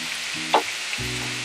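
Ivy gourd (tondekai) pieces frying in hot oil for a kurma, a steady broadband sizzle with one brief louder crackle as they settle, continuous and close.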